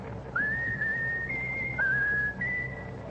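A person whistles the melody of My Country 'Tis of Thee in a clear, steady tone, with several sustained phrases and short gaps, close and alone with no talk.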